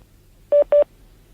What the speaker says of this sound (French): je vais vous passer sur un autre poste, parce que j'ai un autre appel téléphonique